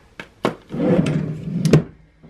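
A wooden baby dresser drawer opens: two sharp knocks, then a low sliding rumble of the drawer running out, ending in a couple of bumps as it stops, close by.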